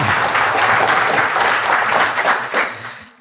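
Audience applause during a health talk, a burst of dense, enthusiastic clapping that holds steady and then tapers off near the end.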